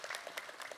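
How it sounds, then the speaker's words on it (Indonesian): Audience at an Islamic talk show gives a short burst of faint, scattered clapping, a handful of distinct claps heard from a distance. "Tepuk tangan dong."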